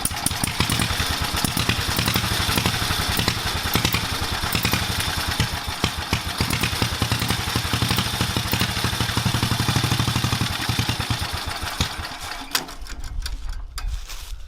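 An 11 hp motorized bicycle engine bought from Walmart runs loud and close with a rapid, steady clatter, then cuts out near the end, leaving a brief low thump.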